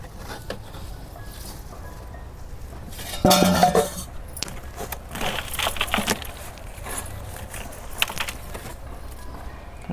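A knife cuts freshly harvested terrace-garden vegetables, such as greens and chilies, with scattered clinks and taps against a board or pan and a louder clatter of handling partway through, without speech.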